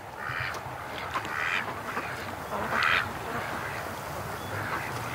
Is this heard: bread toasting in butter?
no